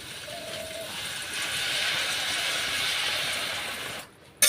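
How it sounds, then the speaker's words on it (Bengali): Water is poured into a hot pan of banana flower (mocha) cooking for a traditional Bengali dish, setting off a steady broadband sizzling hiss that swells and holds before cutting off sharply at the end. "মোচা ভালো করে কষে নিয়েছি, এখন জল দিয়ে দেব পরিমাণ মতো।"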